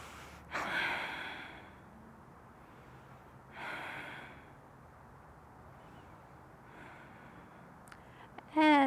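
Someone breathes during a yoga pose: a few soft, airy breaths spaced several seconds apart over a quiet background, ending in a brief louder burst.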